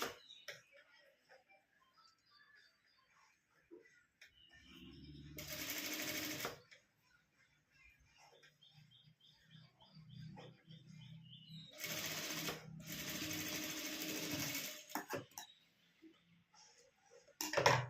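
A domestic sewing machine stitching saree cloth into a hair rubber band, in two short bursts of rapid whirring stitching separated by quiet handling clicks, close up.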